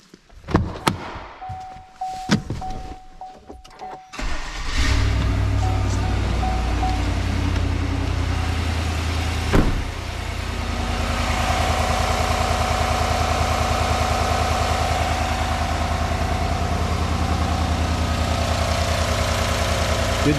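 A 2019 GMC Sierra engine, freshly installed, cranks with a few sharp clicks, catches and settles into a steady, loud idle that runs close by for the rest of the time, with a brief rev partway through.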